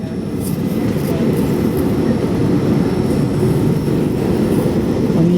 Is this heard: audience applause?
no